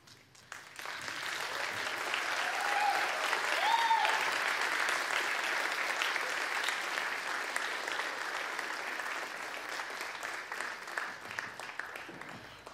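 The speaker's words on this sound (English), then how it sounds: "give them a big round of applause and cheer." Graduands at a graduation ceremony give a long round of applause for their loved ones, a broad, sustained wash of clapping from a large crowd with a few faint whoops, swelling early and tapering off near the end.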